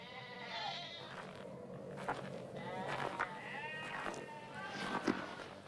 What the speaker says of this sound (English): beside him, resting on the burning ground, lay about 30 sheep